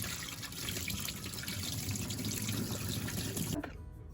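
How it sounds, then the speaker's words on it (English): Running tap water pours steadily through a sieve of red lentils being rinsed, a continuous close splashing hiss that stops abruptly near the end. "just give them a good rinse under running water"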